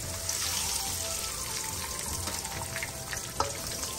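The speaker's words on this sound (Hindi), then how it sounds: "अंडों को हम फ्राई कर लेंगे" Eggs frying in a pan give a steady, close sizzle and crackle that runs throughout, with a few small pops and one brief louder clack near the end.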